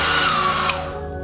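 Hair dryer blowing steadily on a watercolour painting, a close, loud whirring hum that falls slightly in pitch and fades toward the end.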